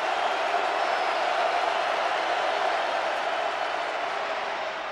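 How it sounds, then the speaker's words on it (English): Football stadium crowd at a 2008 San Jose State vs Nebraska game roaring steadily on a third-and-15 play, a dense, continuous wash of cheering that holds loud throughout. "Now the crowd into it."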